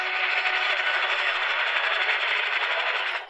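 Crossover interference on an AM station picked up by a Zenith Royal 16 portable radio: a steady, buzzing, rattling hiss of static holds at even loudness for about three seconds, then cuts off abruptly.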